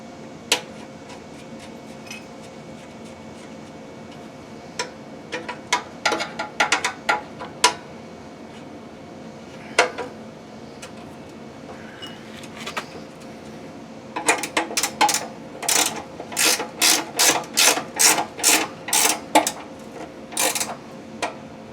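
A hand ratchet tightens a nut on a Ferris FW15 mower mulch kit, sparse clicks at first, then a fast, regular run of sharp clicks near the end, close by.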